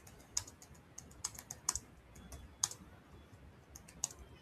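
Typing on a computer keyboard while entering a task's subject line, with a scatter of light, close keystrokes at an uneven pace and a few sharper clicks standing out, and no talking.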